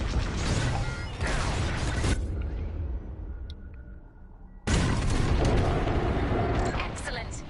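Bombs fall and explode in Star Wars Squadrons, heavy rumbling blasts and mechanical booms filling the mix loudly, dropping to a quieter lull before a second loud barrage erupts close up.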